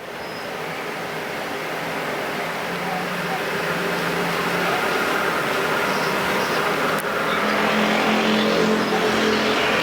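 Factory stock race cars circle Perris Auto Speedway in a heat race, a continuous loud engine roar that swells gradually as the pack comes nearer, with a track announcer's voice running over it.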